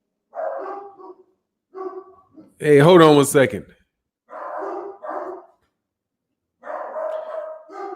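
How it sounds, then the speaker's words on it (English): A dog indoors barks in short, loud, close bursts of several barks each, separated by silence, with someone talking in the middle. "And here go my damn dog again."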